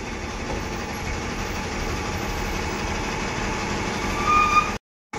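MSRTC Tata BS6 Hirkani bus pulling into Tarakpur bus stand in Ahilyanagar, a steady, loud engine rumble with broadband road and station noise throughout, swelling slightly near the end before a brief cut to silence.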